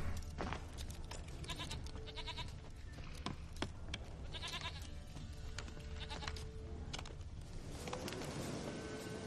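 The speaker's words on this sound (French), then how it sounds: "La chèvre de Monsieur Seguin" Goat bleating in The Witcher 3 video game, heard as intermittent bleats over a dense, busy game soundscape with constant ambient noise.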